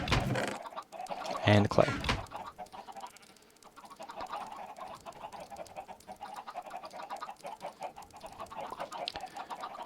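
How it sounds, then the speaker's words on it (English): Chickens clucking inside a video game, soft clucks scattered under a voice and game background sounds, with a louder burst near the start. "Move the chickens."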